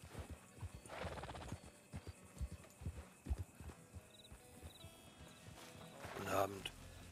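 A rider's horse clip-clops at a farm in a video game, with faint, irregular hoof thuds under a quiet background and a neigh near the end.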